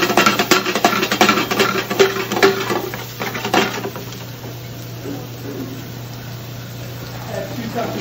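Shallots and garlic tipped into a pan for an Italian ditalini Alfredo, giving a clatter of utensil taps and scraping against the pan for a few seconds before fading to a soft background hum.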